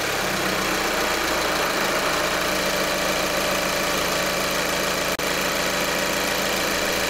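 A 2012-2014 Volkswagen Passat TDI diesel engine (CKRA) idles loudly and steadily after an oil change, with a constant knocking chug and no voices.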